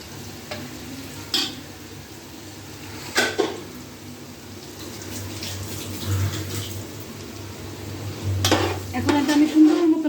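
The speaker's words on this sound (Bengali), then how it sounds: "পেঁয়াজটা আমি সুন্দর মতন ব্রাউন করব।" Chopped onions and green chillies fry in a pan under a soft continuous sizzle, broken by several sharp scrapes and clanks of stirring, louder toward the end.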